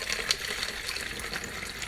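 Water poured from a cup into a bottle, a steady close splashing trickle running throughout without a break.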